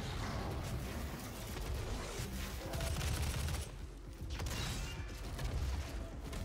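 Rapid gunfire in the video game Doom forms a dense, continuous barrage of overlapping shots and mechanical clatter, loud and close, with short dips between bursts.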